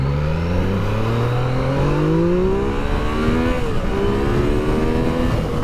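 Yamaha XSR 900 motorcycle pulling hard on a highway, engine pitch climbing steeply through the revs, dropping at a gear change, then rising again, loud and up close with wind roar.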